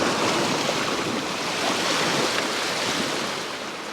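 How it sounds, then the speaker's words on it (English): Surf washing onto a shoreline at sunset, a steady, loud broadband roar with no distinct breaks, slightly easing toward the end, mixed with some wind rumble on the microphone. "Come on, I want a big wave. I think there's one coming in."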